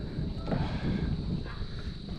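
Steady wind buffeting the microphone, a low rumbling roar that stays constant throughout without pauses.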